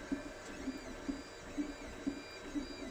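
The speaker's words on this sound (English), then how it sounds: "the footage of me out in the shop running the printer" A 3D printer runs steadily in a shop, a constant mechanical hum with faint whine overtones and a regular soft thump or click about every half second as the head moves.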